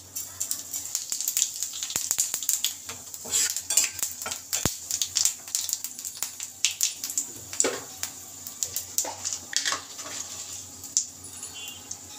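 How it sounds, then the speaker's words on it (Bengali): Whole cumin seeds frying in hot oil with bay leaves and dried red chillies in a pan, a busy crackle and sizzle with scattered metallic clinks of a spoon stirring, close and fairly loud. "এবার আমি গোটা জিরে দিয়ে দেব, একটু গোটা জিরে।"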